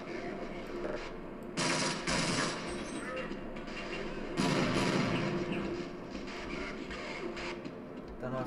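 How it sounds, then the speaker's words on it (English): Machine guns fire in the video game Half-Life, with two sustained rattling bursts over constant background noise and a voice talking during the action. "Got machine guns over there."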